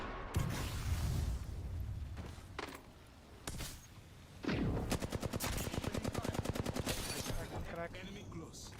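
Rapid automatic gunfire in an online battle-royale shooter, bursts of quick rhythmic shots with a few single cracks and impacts, loud and close, with brief game voice lines between.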